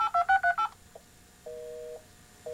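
Telephone touch-tone keypad beeps dial out for a 300 baud modem call to a bulletin board. A quick run of five clear tones is followed by a short blip and then two longer, quieter tones, with no talking.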